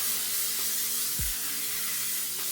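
Aerosol setting spray misted onto a face, a continuous close airy hiss lasting a couple of seconds with a faint low thump in the middle, no talking.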